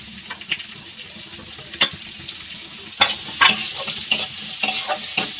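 Onion and green chillies hit a pan with already browned garlic, giving a close, busy sizzle and frequent stirring scrapes. The sound grows louder and more crackly partway through.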